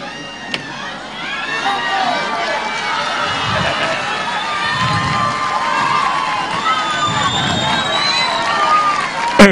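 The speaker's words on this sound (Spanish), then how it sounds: "el aplauso de Aguaray para despedir a esta agrupación musical jujeña" An audience in Aguaray cheers and shouts loudly for a Jujuy music group at a live municipal event, a dense sustained crowd roar with whistles and scattered voices throughout.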